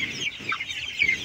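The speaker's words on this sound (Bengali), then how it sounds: "এখানে মুরগি আছে" Sonali chickens in a poultry farm cluck and chatter together, a dense, continuous flock noise with bursts of higher calls, fairly close and steady throughout.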